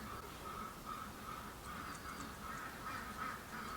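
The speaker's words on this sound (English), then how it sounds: "My ducks are going cuckoo." Ducks quack faintly and almost continuously in the background, a soft, busy chatter of several birds that stays low and distant throughout.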